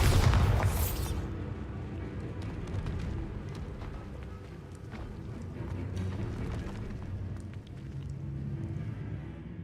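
In the video game Hogwarts Legacy, a Bombarda explosion spell goes off with a loud, close blast at the start. A low rumbling roar follows and lasts to the end.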